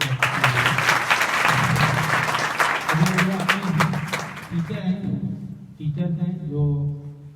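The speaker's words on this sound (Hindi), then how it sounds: "आप लोग ताली बजाएं" School students clapping in a hall, dense applause for several seconds that thins out, followed by someone speaking over the last scattered claps.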